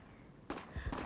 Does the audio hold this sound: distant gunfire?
yes